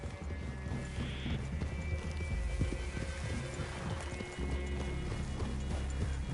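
Horses' hooves clop steadily in the Red Dead Redemption 2 video game as riders approach a forest clearing, a rhythmic mid-distance plodding over a low rumble, with a brief whinny and no talk.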